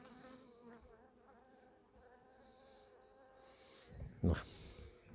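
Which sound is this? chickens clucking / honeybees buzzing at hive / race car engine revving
honeybees buzzing at hive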